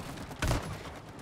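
Gunfire from the co-op video game It Takes Two, fired to shoot off clips: a single short, loud burst rising out of a steady hiss of game background noise.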